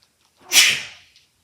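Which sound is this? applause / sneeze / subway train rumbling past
sneeze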